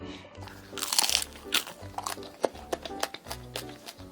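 Someone bites into and chews a canelé pastry up close, giving a loud crunch followed by a series of dull, crackly crunches and chewing sounds, with no talking.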